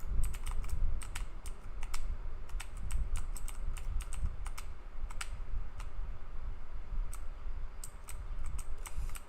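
Steady, close typing on a computer keyboard while programming a C++ game, with rapid, irregular key clicks over a low background hum.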